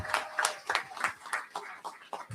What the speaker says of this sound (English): a big round of applause to the GOP and to our wonderful Lieutenant Governor, Matt Pinnell